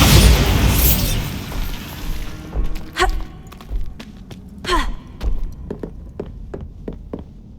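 A Bombarda spell detonates in Hogwarts Legacy: a loud, close blast of broadband noise, then a scatter of sharp pops and thuds as debris settles.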